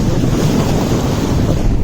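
Vehicle fording a river in the forest of Rajaji National Park, Uttarakhand, giving a steady loud wash of rushing water and rumble, broadband and unbroken across the moment, with no voices.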